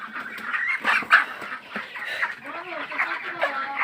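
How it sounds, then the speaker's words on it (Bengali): A broiler-farm rooster clucks and calls nearby in a short, uneven burst of squawks, with other fowl noise and a voice mixed in. "হ্যাঁ মোরগটা"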